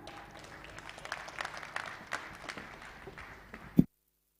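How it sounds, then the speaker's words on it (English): Audience applause at the grand opening of the MTC Innovation Centre at the High-Tech Transfer Plaza: a short burst of clapping from a seated crowd that cuts off abruptly after a few seconds. "Please, can we have a round of applause for her?"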